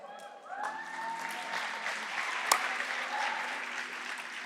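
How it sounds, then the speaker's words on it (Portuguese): A church congregation gives a round of applause, a moderate, continuous wash of clapping with some voices and a cheer mixed in, holding steady for several seconds after a brief quieter start. "salva de palmas pro Natan"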